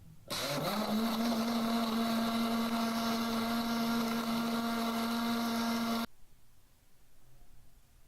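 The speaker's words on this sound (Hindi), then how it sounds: "अब हम इसको ब्लेंड कर लेते हैं" An electric blender whirs loudly and steadily through cold coffee for about six seconds, its motor pitch holding even before it cuts off abruptly, leaving a quiet room.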